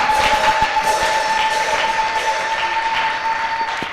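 A church congregation applauds at a Sunday service, giving loud continuous clapping from a large crowd that holds steady the whole time and fades slightly at the end.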